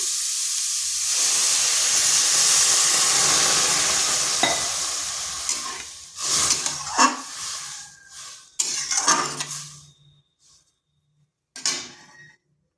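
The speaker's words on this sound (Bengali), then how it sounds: "গাজরটা ভাজা হয়ে গেছে আর এর কালারটাও হালকা চেঞ্জ হয়ে গেছে" Loud sizzling and hissing from carrots frying in a hot pan fades as milk goes in, followed by scraping stirring strokes and a few clinks of a utensil.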